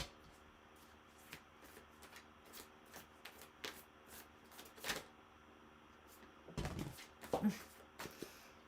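Tarot cards are shuffled and drawn from a deck in a quiet room: soft, close riffling and crisp individual snaps and flicks come in irregular bursts, with a denser flurry of shuffling near the end.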